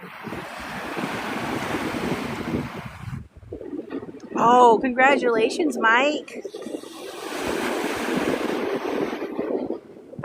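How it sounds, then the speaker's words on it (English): Surf rolls in steadily at Navarre Beach, Florida, a continuous loud wash of breaking waves with wind buffeting the microphone, briefly interrupted midway by a voice speaking over it. "I'm glad you're here to listen to the waves."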